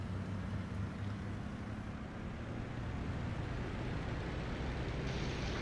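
Engine of a WWII aircraft in the IL-2 Sturmovik flight sim running at full power, a steady, loud broadband roar with low rumbling drone and wind-like rush throughout.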